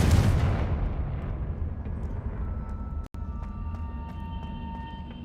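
A fire-blasting Confringo spell cast in Hogwarts Legacy bursts with a loud, deep boom at the start, then rumbles and fades into a low, steady roar with a faint electronic hum.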